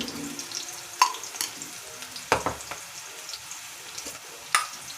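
Cumin seeds dropped into hot oil for masala dosa, giving a soft sizzle with a few sharp pops and crackles over a quiet background.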